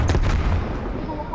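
Grenade explosion in Call of Duty Black Ops Cold War during a team deathmatch, a loud booming blast at the start that decays into rumble, with faint voices in the background.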